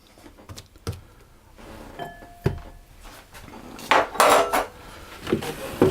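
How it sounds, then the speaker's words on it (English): A metal baking sheet is pulled out and handled, with close clanks, scrapes and rattles that come irregularly and grow louder and busier toward the end. "So we'll take a baking sheet"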